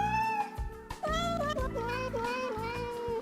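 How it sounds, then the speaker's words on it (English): Several cats meowing and yowling in a drawn-out, melodic chorus from a CD of cat love songs, loud and continuous with overlapping wavering cries. "featuring the hottest collection of cat love songs ever"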